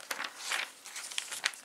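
Paper crinkles and rustles in a few quick bursts as glossy Avon catalog pages are flipped close by, with short pauses between turns.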